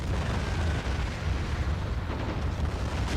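Continuous rumbling artillery fire and explosions fill a Men of War tank battle, a dense, loud wash of booms with no clear gaps between them.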